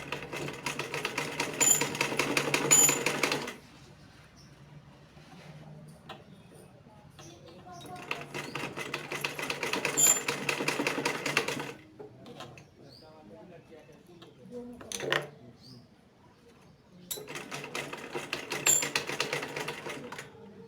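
A sewing machine stitches cord piping along a groove in bursts of fast, even mechanical whirring, with pauses between runs and a voice talking in the quieter gaps.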